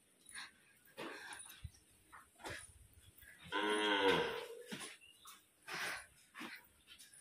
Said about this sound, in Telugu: ఇక్కడ చూడండి ఎన్నో ఆవులు ఉన్నాయో.